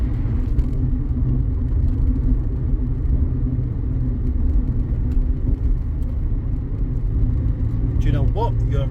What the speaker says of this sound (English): This car just hustles along without really any effort at all.